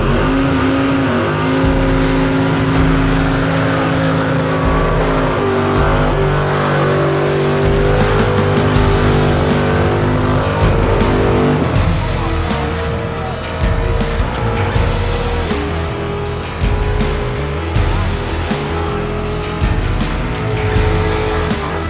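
Car doing burnouts at the Summernats car festival, a loud sustained engine roar with revving and screeching tyre squeal, continuous and close throughout.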